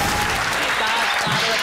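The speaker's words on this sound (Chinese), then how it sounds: "大家都在拍手。" A studio audience on a Taiwanese TV talk show bursts into dense, steady applause that fills the whole moment at close range, with no pause or letup.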